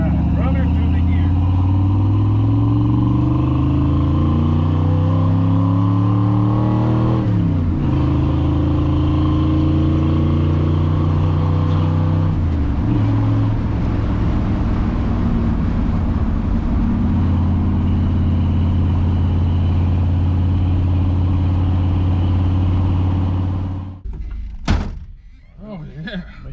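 A 1963 Chevrolet Impala engine revs loud and close, its pitch climbing and dropping back through two clear gear changes in a sustained run before cutting off with a dull thump.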